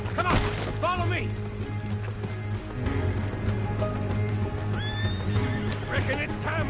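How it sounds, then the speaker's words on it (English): Horses neigh and whinny over galloping hoofbeats amid a busy soundtrack in the game Red Dead Redemption, with a voice talking underneath. "See the horses? Come on, follow me!"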